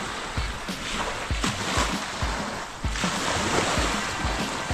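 Strong ocean waves wash in with a steady broadband roar, with low thumps repeating every second or so as surf breaks close by, continuous throughout.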